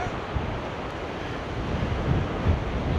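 Continuous rush of rough-sea waves breaking and splashing against a harbour wall at Seaham, with wind buffeting the microphone and no voices.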